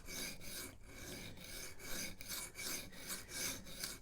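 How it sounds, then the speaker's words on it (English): A carbon steel Rough Ryder Half Hawk knife is drawn across a coarse 220 grit sharpening stone, giving quiet, rhythmic rasping strokes roughly twice a second, each a gritty scrape with short pauses between, close up and alone. "So even on a coarse 220 grit stone like this, it can take a little bit of time to reprofile a knife."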